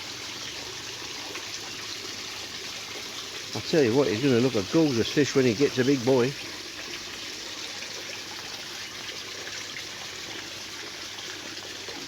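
Water trickles steadily from a four-step aquarium shower, a constant soft wash running beneath a man's close, animated talking.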